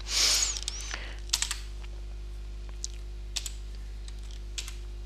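Keys on a computer keyboard are tapped to enter a username and password while setting up a Marmitek IP Robocam. A loud opening burst is followed by sparse, quiet individual clicks spread out over several seconds.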